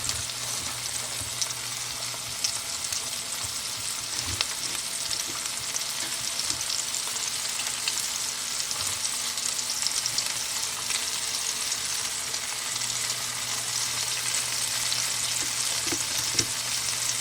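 Chunks of beef for stew brown in a pot with a loud, steady, close sizzle and crackle, occasional soft stirring scrapes, and no one speaking.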